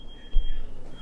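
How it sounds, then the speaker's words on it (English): A fire alarm sounds as one sustained, thin high-pitched electronic tone, steady and continuous under a low thump and faint room noise. "I think that's a fire alarm."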